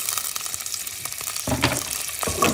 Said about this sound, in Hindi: इसको अच्छी तरह से इसको फ्राई कर लीजिए।